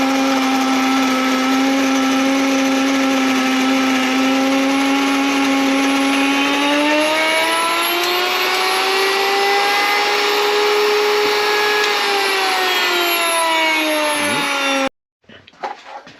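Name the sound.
grain mill grinding wheat berries into flour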